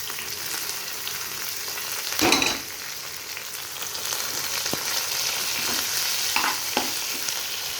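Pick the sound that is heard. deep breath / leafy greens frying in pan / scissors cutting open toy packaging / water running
leafy greens frying in pan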